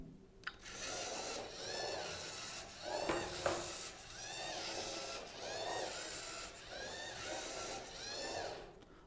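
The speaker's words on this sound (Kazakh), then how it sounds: "Роботты іске қосамын." An educational robot starts up and turns, its small motors whirring in repeated rising and falling bursts with faint mechanical rubbing, close and alone with no speech.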